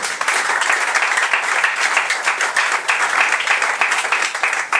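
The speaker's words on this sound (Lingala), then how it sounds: "Acclame plus fort pour la gloire du Seigneur." A church congregation applauding during a deliverance service, dense sustained clapping from many hands filling the room at a steady level throughout.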